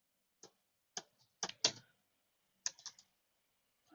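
Commands are typed on a computer keyboard at a network-device command line: sparse, close bursts of crisp key clicks in a quiet room, separated by short pauses.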